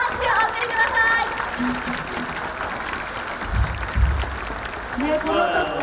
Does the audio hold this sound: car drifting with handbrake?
no